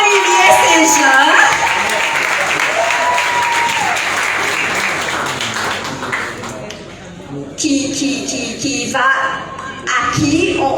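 An audience at a tribute ceremony for young role models breaks into sustained applause, dense clapping that fades slightly then swells again in bursts, loud and close, with voices mixed in at the start.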